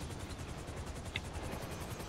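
Helicopter in GTA V Online, a faint steady rotor whir with rhythmic thumping pulses running evenly throughout, alone with no voices.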